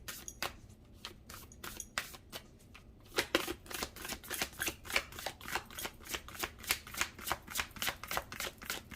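A deck of tarot cards is shuffled and cards are drawn. Close, rhythmic riffling starts with sparse flicks, then becomes a steady, brisk run of card slaps lasting several seconds, with no talking.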